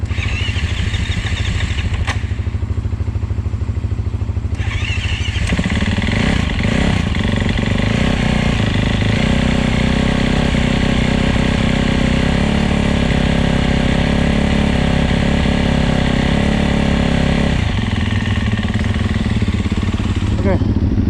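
A dirt bike engine, a Yamaha YZ450F, Husaberg FX450 or Husqvarna FC350 running map 1, fires up and settles into a loud, steady close idle while warming up, with a brief revving burst near the start.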